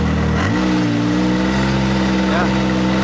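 A Can-Am Maverick X3 engine hum rises and settles into a steady drone as it backs up, with a faint mechanical whine from the drive shaft over it.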